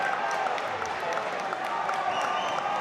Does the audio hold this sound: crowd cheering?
yes